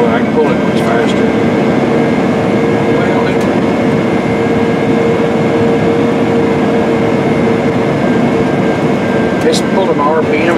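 A big farm tractor drones loudly and steadily as it pulls a disk harrow across a field, moving slightly downhill, with a constant engine rumble running throughout.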